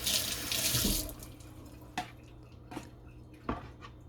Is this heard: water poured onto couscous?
yes